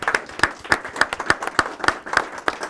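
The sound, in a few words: audience applause for Cub Scouts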